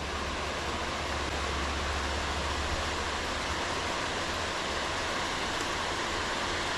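Steady, full rush of running water over a stream or riffle at a bass-fishing spot, loud and continuous with a low rumble underneath, no voices.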